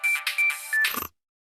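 Electronic phone ringtone as a sound effect in a narrated dark fantasy isekai story: three bright, repeating beeping rings, loud and clean, then a short clatter as it is cut off and silence follows.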